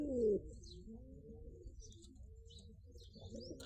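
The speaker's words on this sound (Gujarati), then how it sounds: "આ છે મિત્રો આપણા કબૂતર જોઈ શકતા છો તમે." Pigeons coo at a rooftop coop, a louder throaty call at the start followed by softer, low burbling coos in quiet surroundings.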